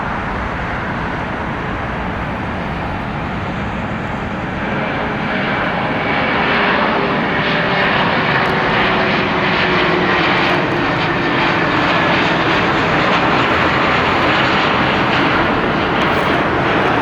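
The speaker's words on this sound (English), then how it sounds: "here comes A321 wearing the beautiful PSA retro" An Airbus A321 in PSA retro livery takes off at Long Beach, a loud, sustained jet engine roar that holds steady and swells slightly throughout, with no voices over it.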